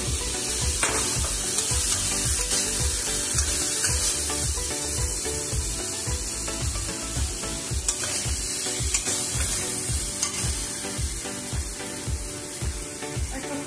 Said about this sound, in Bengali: এবার আমি এর মধ্যে আলুটা দিয়ে দিচ্ছি।